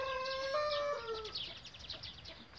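Farmyard hens give a few short, nasal clucks up close, then trail off into softer scratchy chatter in the background.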